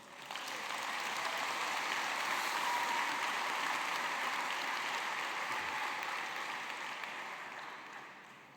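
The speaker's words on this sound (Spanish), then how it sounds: "Un aplauso a Cristo." Congregation applauding inside a church during an Easter service: a dense, steady wash of many hands clapping for about eight seconds, reverberant and somewhat distant, tapering off slightly at the end with no voices over it.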